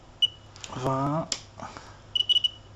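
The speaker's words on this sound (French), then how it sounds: "on entend le buzzer qui frétille" An electronic buzzer driven by a frequency signal gives a short chirp, then a quick run of fluttering beeps, with a person speaking between them.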